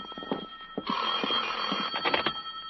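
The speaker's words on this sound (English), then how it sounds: "At 10, my phone rang." A telephone rings as a radio drama sound effect, a bright electric bell trill sounding in a couple of bursts, fairly loud and alone with no voices.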